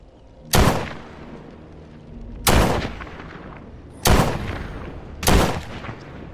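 Four loud, sharp gunshots from a handgun in the VR zombie game The Walking Dead: Saints and Sinners, fired one-handed at uneven intervals of about one to two seconds, each with a short decaying tail and no talk over them.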